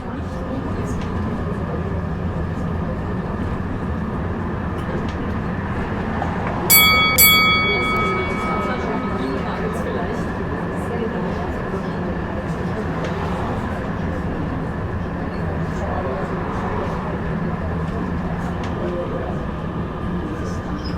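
A tram rolling through Vienna gives a steady low rumble and rattle of wheels on rails throughout, with a brief bright bell ding partway through, all heard from inside the car.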